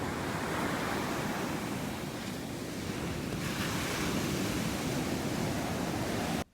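Ocean waves roll onto a Pacific Northwest beach in a continuous loud wash of surf, mixed with wind buffeting the microphone, and no voices, until the sound cuts off abruptly at the end.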